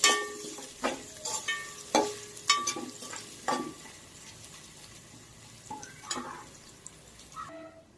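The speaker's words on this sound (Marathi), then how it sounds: "लसूण देखील यामध्ये फ्राय करायचा आहे" Twelve to fifteen garlic cloves frying in oil for a fried poha chivda, with sharp sizzling bursts and repeated stirring clacks in the first half, settling into a softer crackle, close up with no talking.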